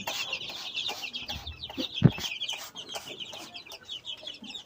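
Chickens cluck in a coop with a wood-shavings floor, a steady chatter of soft calls from several birds with one louder, sharper cluck close by partway through.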